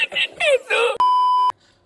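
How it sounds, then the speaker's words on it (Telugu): A person talks briefly, then a single electronic phone tone sounds for about half a second before it cuts off. "వాడికి ఫోన్ చేస్తే వాళ్ళు లిఫ్ట్ చేయడు."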